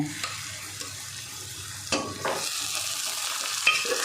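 Boiled dal going into a frying pan for egg tadka, a low sizzle broken by a few spoon knocks, then a brighter, louder frying hiss with stirring scrapes as the dal is mixed in, close up and without talk.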